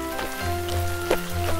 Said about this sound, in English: There are drops of water falling from the sky.